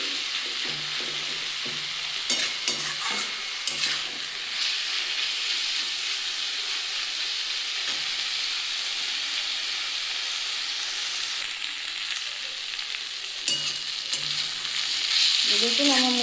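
Radish greens stir-fry in a hot pan with a constant loud sizzle, marked by sharp spatula scrapes and clacks against the metal at intervals.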